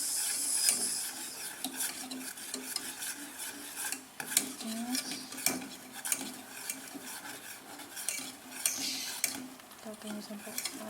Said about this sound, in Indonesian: Oke, kita masukkan mentega. Kita tunggu sampai cair menteganya. Kita aduk terus.